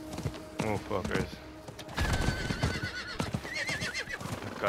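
Repeated whinnies and hoofbeats from a rideable horse in Diablo 4, set against busy game ambience with someone speaking intermittently.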